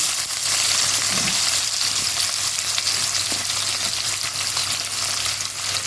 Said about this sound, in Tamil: வெங்காயம் நல்லா சவுண்டு வரட்டும் பாருங்கள் வெங்காயம் சவுண்டு வர்றது